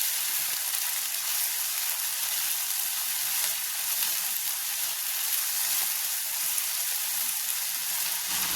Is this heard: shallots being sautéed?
yes